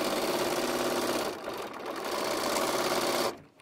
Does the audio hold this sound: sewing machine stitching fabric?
yes